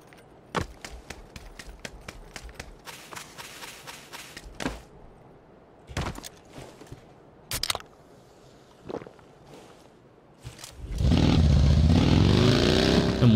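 A motorcycle in the PUBG desert map roars to life loudly in the final two seconds, its engine pitch sweeping as it pulls away, after a stretch of scattered sharp cracks and clicks.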